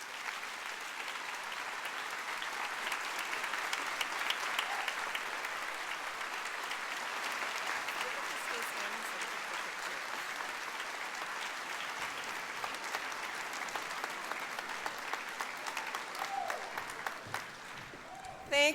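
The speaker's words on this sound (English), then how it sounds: "So give her a huge round of applause, Mrs. Patty Phillips." Sustained applause from a graduation ceremony crowd fills the space with dense, steady clapping that holds evenly throughout and stays moderately distant.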